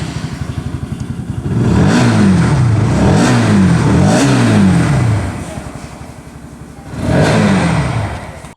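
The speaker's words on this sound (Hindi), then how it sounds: "एग्जॉस्ट साउंड है वो भी मैं आप लोग को सुना दूँ" A 160cc motorcycle idles with a steady rumble, then the exhaust revs hard several times in rising and falling sweeps, settles back, and revs once more.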